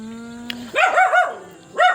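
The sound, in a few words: dog barking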